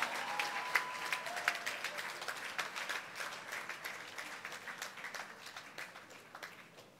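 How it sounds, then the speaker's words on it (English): A debate finale audience at a university youth leadership event breaks into sustained applause, dense clapping that slowly fades over several seconds in a large hall. "A round of applause"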